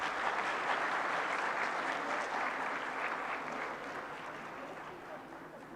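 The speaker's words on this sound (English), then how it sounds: "Please give a big round of applause." Sustained audience applause in a lecture hall at an economics society's annual meeting, a broad, even wash of clapping that holds steady and then gradually fades toward the end.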